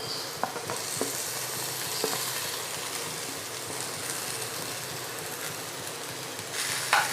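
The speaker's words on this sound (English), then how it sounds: "Now add half of your chopped tomatoes," Chopped tomatoes added to a pan of fish gravy, a steady close sizzle and hiss with a few light clinks and stirring scrapes, fairly even in loudness with no voices.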